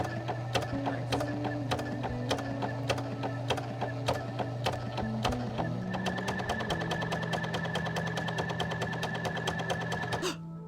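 A sewing machine stitches steadily in a fast, even mechanical rattle, close and continuous, with a brief shift in pace midway before it stops.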